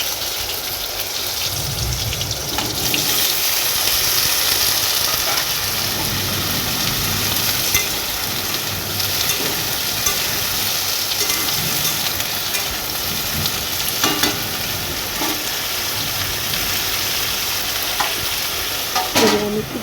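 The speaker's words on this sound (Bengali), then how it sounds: "দিয়ে দিলাম জিরে ফোড়ন তারপর যে আলু পটল কেটে রেখেছি সেটা দিয়ে দেবো" Potatoes and pointed gourd fry in hot oil after a cumin tempering for a Bengali village vegetable curry, a steady close broadband sizzle with stirring scrapes and occasional clinks, no talking.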